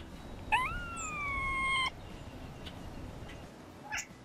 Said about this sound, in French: ces sons étranges et aigus pourraient être une tentative du chat d'imiter les types de